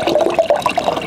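Green apple drink being poured into a mojito pot for a tank cocktail, giving a steady close splashing, gurgling stream of liquid that runs throughout without talk.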